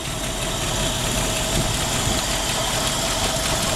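A 1965 Ford Mustang Fastback built as a Shelby GT350 clone, with a rebuilt 302 V8 and C4 automatic, idles with a loud, steady, close rumble and no break or change across the few seconds.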